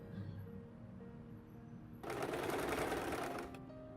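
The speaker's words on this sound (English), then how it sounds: "So I sewed a straight stitch and also a zigzag stitch on it" A sewing machine sewing straight and zigzag stitches on fabric runs in a quick, even mechanical whir for about a second and a half after a quiet stretch, close and moderately loud.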